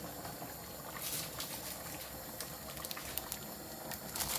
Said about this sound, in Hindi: 2 कप पानी डाल के मैंने उसको उबलने के लिए रख दिया है